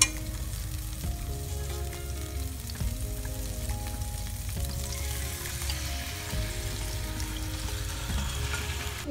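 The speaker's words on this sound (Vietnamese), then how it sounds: "Và công đoạn tiếp theo thì mình sẽ xào." Pork stomach stir-fried in oil with onion in a pan, a steady loud sizzle running throughout with occasional scraping of the utensil against the pan.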